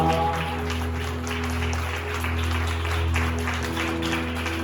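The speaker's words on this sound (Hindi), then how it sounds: "जोरदार ताली बजाएं।" A church congregation claps loudly during a Hindi-language worship service, a steady wash of applause running the whole time over a sustained low musical drone.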